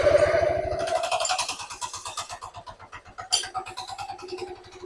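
A Honda Forza scooter engine starting up after a throttle reset, then settling into a steady, rapid idle thrum, close and moderately loud throughout.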